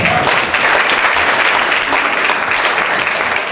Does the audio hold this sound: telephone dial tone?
no